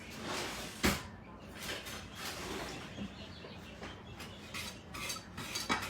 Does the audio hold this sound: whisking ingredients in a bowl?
yes